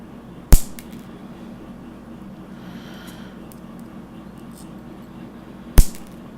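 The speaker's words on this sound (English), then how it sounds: "I'll just trim these off with a pair of scissors." Two sharp, crisp scissor snips cut through vape coil material a few seconds apart, close and loud against a quiet room background.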